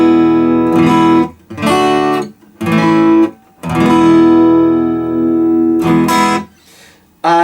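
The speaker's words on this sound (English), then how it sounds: "Another style of guitar you can purchase is a steel string acoustic guitar." A steel string acoustic guitar strums bright, ringing chords in a few separate bursts, with one long sustained chord fading in the middle.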